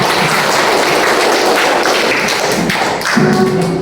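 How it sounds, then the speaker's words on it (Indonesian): A classroom of schoolchildren claps together in a loud, dense burst of applause that runs steadily for several seconds, with a brief dip and pickup near the end. "Tepuk tangan buat kita semua."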